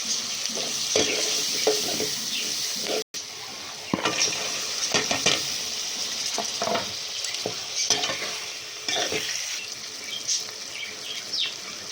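Vegetables with potato, radish, tomato and onion are sautéed in a pan with pieces of fish and lentils, sizzling steadily as a utensil scrapes and stirs in irregular strokes, close up, with a brief dropout.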